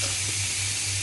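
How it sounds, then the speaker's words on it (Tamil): Hot fried rice (nasi goreng with anchovies) in a pan, lemon juice poured in and sending up a loud, steady hiss of steam and sizzle, close and unbroken, with a low hum beneath and no talking. "இப்போது இதுக்கு தேவையான லெமன் ஜூஸ் ஆட் பண்ணிக்கலாம்"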